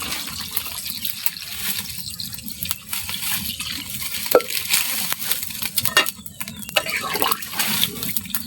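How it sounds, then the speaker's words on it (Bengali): Water poured from a container into a pan of cooking duck meat with potatoes in a village kitchen, a steady splashing trickle running for several seconds with a few sharper clinks and splashes, no talk. "এখন আমি একটু পানি দিয়ে দিব।"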